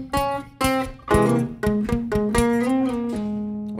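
Clean RnB guitar phrase from the interlude tutorial, a run of about a dozen plucked notes and small chord stabs in a steady, lilting rhythm, close and clear with ringing sustain and no voices.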